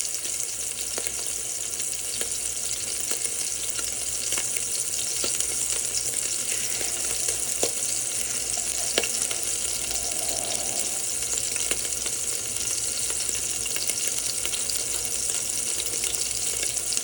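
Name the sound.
meatballs searing in a pan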